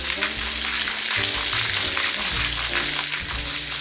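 Apples sizzle and fry in a pan with a steady, close crackling hiss that runs throughout, with faint tonal clatter underneath and no talk.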